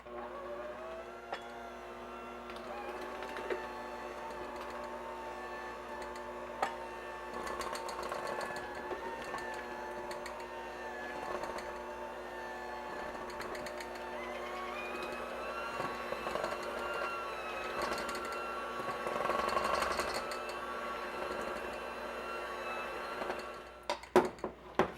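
An electric hand mixer beating chocolate loaf batter in a bowl, a quiet steady motor whir with shifting pitch and occasional clatter against the bowl. It runs alone for about 25 seconds with no talking.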